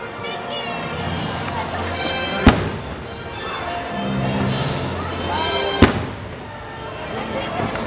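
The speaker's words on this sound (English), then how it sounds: "Fireworks for my birthday." Fireworks exploding at Disneyland: two sharp, loud booming bursts a few seconds apart, ringing out over a continuous crowd and the voices of people talking nearby.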